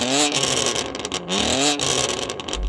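A performance car engine, either an AMG C63 Black Series or a BMW M3, revs hard several times in succession, pitch climbing and falling with each blip of the throttle, loud and close with no talking.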